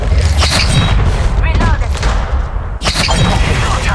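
Gunfire from a firefight in Apex Legends Mobile, loud, dense booming shots bursting nearly continuously, pausing briefly before another burst, with game voice callouts mixed in.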